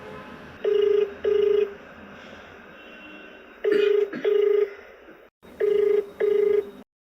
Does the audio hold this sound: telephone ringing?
yes